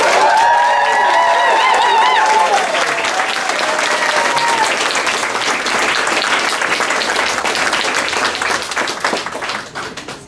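Sustained applause and cheering from a crowd at a high school graduation ceremony, loud and dense throughout with whistles and shouts over steady clapping, fading slightly at the end.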